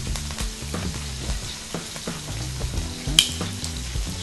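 Seasoned mahi mahi fillet sizzles steadily on a hot grill, a close, constant crackling fry with a brief metallic tick partway through.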